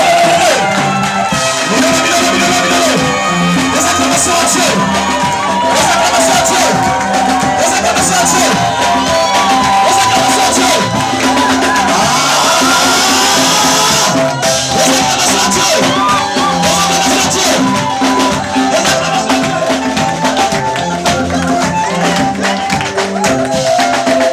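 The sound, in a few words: church congregation cheering and acclaiming God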